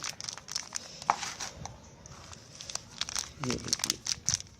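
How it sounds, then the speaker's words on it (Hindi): Potting soil is pressed by hand into a plastic cup to prepare it for a plant cutting. Soft crinkling and crackling of the plastic comes in irregular bursts and stays fairly faint and close. "जो गिलास है इसे आप प्रेशर से ऐसे दबा दबा कर मिट्टी बनाएं।"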